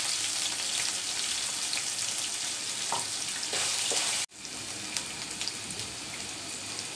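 Chicken and a large onion frying in a pan, a steady close hiss of sizzling oil that briefly cuts out, then resumes more quietly, with no talk.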